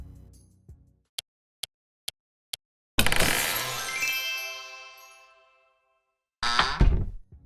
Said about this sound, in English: Lastly, I used animation events to trigger sound effects when opening up and closing the supply crates.